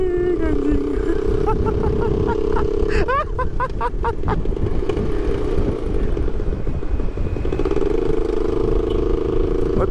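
A Kawasaki Ninja 650 (ER6F) runs rough on only one cylinder, a loud steady engine drone with uneven pulsing throughout, a voice talking over it.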